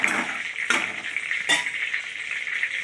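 Pointed gourd (patol) pieces frying in oil in a pan give a steady close sizzle, with a few sharp stirring scrapes or clinks breaking through the hiss.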